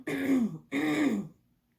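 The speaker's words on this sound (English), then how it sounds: "if I can clear my throat, I'm so sorry" A pregnant woman clears her throat twice in quick succession, two close, rasping bursts that end in a short quiet tail.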